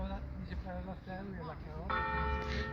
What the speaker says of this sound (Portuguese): quando ele tá esse sino tocando assim